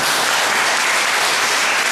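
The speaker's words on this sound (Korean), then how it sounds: "나오실 뜨거운 박수로 환영해 주시길 바랍니다" Steady, dense applause from a church conference audience welcoming a lay leader to the stage, continuous and fairly loud throughout with no talking.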